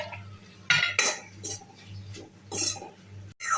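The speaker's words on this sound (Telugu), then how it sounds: "అదే ప్యాన్లో పుదీనా వేసుకొని బాగా వేయించుకోండి." A metal spoon stirs and scrapes mint leaves frying in a pan, giving a run of close, sharp clinks and scraping strokes over a faint low hum.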